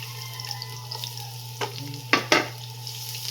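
Garlic and onion sauté in a hot wok, giving a low steady sizzle over a constant hum, broken by a few sharp scraping stirs near the end.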